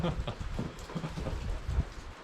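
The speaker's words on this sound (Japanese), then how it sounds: "今日ね、結構な嵐で東風15メーターぐらい吹いてるみたいなんですよ、上高地ね。" Heavy rain falls in a strong easterly windstorm at Kamikochi, a steady dense wash of drops and gusts with some low thumps. It is close and fairly loud, and faint speech can be heard in places.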